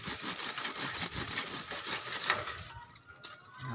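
Hand saw cutting through a tough, hard stem of a climbing dollar plant gathered outdoors for bonsai material, heard as steady, fairly loud rasping strokes close by that stop near the end.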